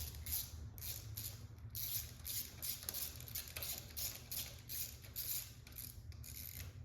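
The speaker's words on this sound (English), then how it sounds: "So we're going to tighten the bolts down to the point where they just touch the oil pump." Bolts being snugged down on an LS1 V8 oil pump during an engine build, heard as a quiet, steady run of ratchet clicks with a low mechanical hum underneath, close by and without speech.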